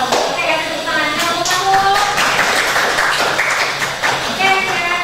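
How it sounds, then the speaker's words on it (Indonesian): Students in a classroom clap for a group presentation, a busy patter of hands mixed with chatter and a voice speaking over it, steady in level throughout. "kasih tepuk tangan"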